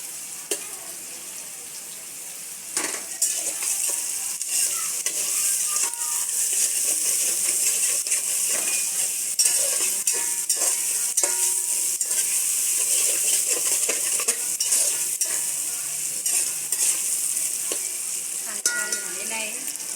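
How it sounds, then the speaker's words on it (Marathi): Chopped onions sizzle in hot oil for egg biryani, a continuous bright frying hiss punctuated by frequent scraping and clinking of a spoon stirring against the pan, with no talking. "कांदा लाल होऊन द्यायचा आहे मस्त की"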